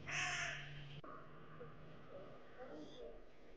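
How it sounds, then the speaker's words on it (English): Crows cawing near and loud at the start, then fainter calls further off, heard outdoors at the Kremlin in Nizhny Novgorod, Russia, on a gray day, with light speech-like sounds in the background. "Hear the birds?"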